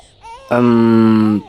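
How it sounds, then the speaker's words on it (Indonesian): An animated baby cries with one loud, sustained wail that follows a softer rising whimper, close and alone. "Bayi itu menangis semalaman sampai membangunkanku."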